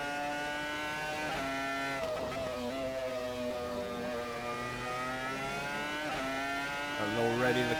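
Renault R25 Formula 1 engine in the racing game Assetto Corsa, a loud high-pitched scream holding near-constant revs with brief dips at gear changes, under speech.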